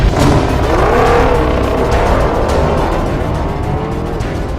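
Chevrolet ZL1 1LE muscle car accelerating hard, a loud, steady engine roar with rising pitch and a hint of tire noise, continuous and close throughout.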